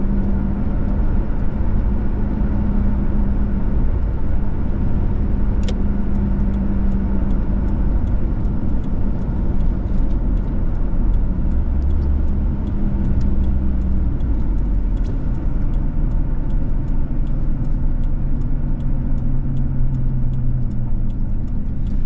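A two-wheel-drive Ford Ranger pickup drives through snow, its engine holding a steady mid-pitched drone with gentle rises and drops as it shifts gears at low revs, close and continuous with no talk.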